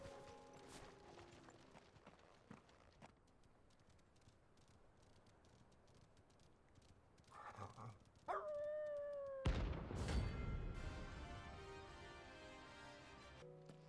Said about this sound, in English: It's going to be a pack of dogs.